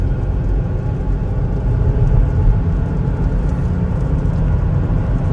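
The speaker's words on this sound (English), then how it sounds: "Vehicle drives really nice and smooth." A 2021 Chevrolet Equinox LT on Michelin tires during a test drive: steady, loud low road and engine rumble with constant tire noise from inside the cabin, smooth and unbroken.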